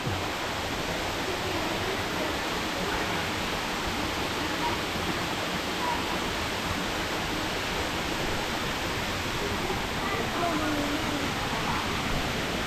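Steady, loud broadband rush of a waterfall on a forest nature trail at Lan Son Phu Soi Dao, filling the whole stretch without break, no voices on top.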